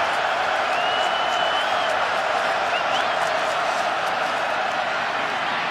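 Fans at a 2015 Miami vs. North Carolina college football game keep up a loud, unbroken roar during a third-and-three snap. Scattered whistles and whoops rise above the steady crowd din.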